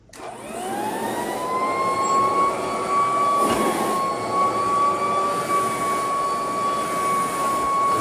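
An old Eureka vacuum cleaner runs on mats, starting with a rising motor whine that settles into a loud, steady drone with a strong airflow rush.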